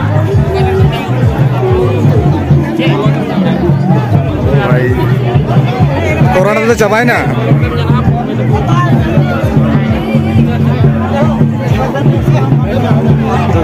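A dense babble of many voices at a village mela fills the air continuously, loud and close, with nearby people talking over the crowd and occasional shouts rising above the hubbub.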